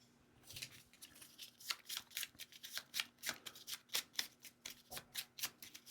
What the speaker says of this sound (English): Shuffle their deck.